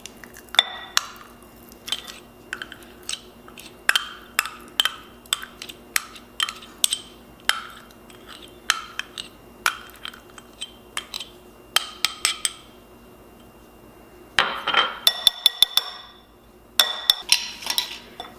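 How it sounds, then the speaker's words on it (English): Cherry butter is mixed and smooshed down in a dish, with many sharp utensil clinks and taps against the dish in irregular bursts, some louder clattering near the end, and no talk. "Now we're just going to want to mix this all together. Smoosh down the cherry butter."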